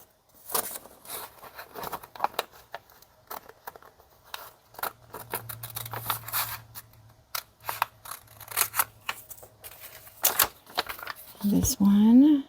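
Scissors snipping through a sheet of paper to cut out small envelopes for a junk journal, a close series of quick crisp cuts mixed with paper handling and some talking.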